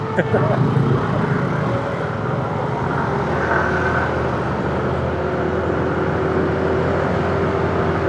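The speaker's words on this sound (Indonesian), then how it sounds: "suara 4 silindernya terdengar banget nih sampai jelas" A bus's four-cylinder engine rumbles steadily with a low, continuous exhaust drone, loud and close, with faint background noise throughout.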